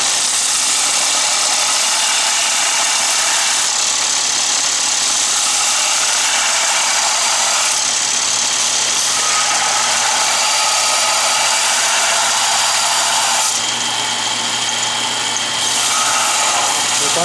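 A power sander whirs continuously at high pitch with a grinding, hissing edge while sanding a metal Allen wrench, briefly easing in intensity a few times.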